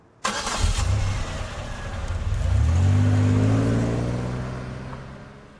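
A car starts up with a sharp engine catch, then revs and pulls away, its engine tone rising and holding loud before slowly fading as it drives off; no voices are heard.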